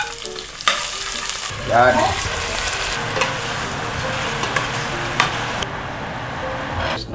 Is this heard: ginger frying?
yes